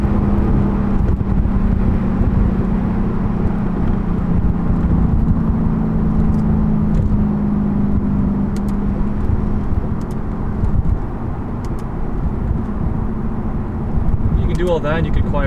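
A V8 muscle car cruises over a bumpy road, its engine a steady low drone with a sustained hum that eases off partway through, while someone talks over it throughout.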